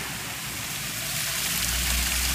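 A small waterfall at the Kamla Jharan picnic spot pours with a steady, broadband rushing hiss that is fairly close and continuous throughout.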